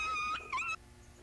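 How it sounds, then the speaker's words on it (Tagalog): A dog lets out a brief high whimpering yip, two short tonal cries close together, then quiet. "Uy, may aso. Oo, aso yun."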